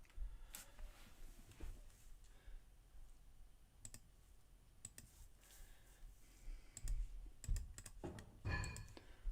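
Light, irregular clicks of fingers typing on a computer keyboard come in scattered short bursts with quiet gaps, soft and close in an otherwise hushed room.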